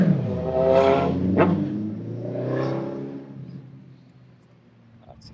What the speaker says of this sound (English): That's a loud motorcycle.